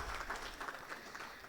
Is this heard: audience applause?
yes